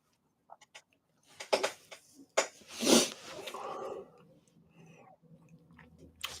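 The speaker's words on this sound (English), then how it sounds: "Potato chip ASMR is a whole new vibe." Potato chips are crunched and chewed close up in short bursts, with crisp bites and a few louder crunches separated by brief pauses.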